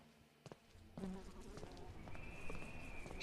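Insect-like fly buzzing in a horror video game, a steady droning hum that rises after the first second and holds on, with a thin high whine joining near the end; no talking.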